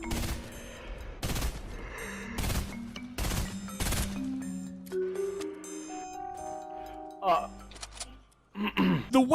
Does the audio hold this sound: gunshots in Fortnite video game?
yes